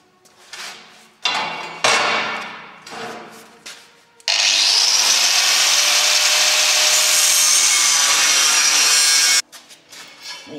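A piece of sheet metal for a barbecue is cut, first with several short scraping bursts, then one sustained loud, high grinding screech lasting about five seconds before stopping abruptly, followed by light handling noises.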